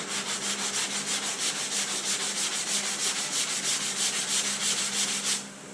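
Sanding block worked over body filler on a car panel during prep for primer, a steady rhythmic rasping of strokes back and forth, close and fairly loud, stopping just before the end.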